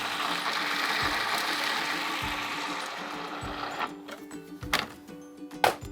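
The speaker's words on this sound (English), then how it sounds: "And now we're gonna put this in a food processor." Food processor blending a tameia mixture of herbs, steady broadband whir for about four seconds, then cutting off into a few clattering knocks and clicks of the bowl and lid.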